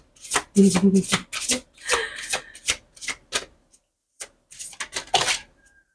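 Tarot cards are cut and handled close up, a series of quick papery riffles and soft slaps in uneven bursts, with brief pauses between them.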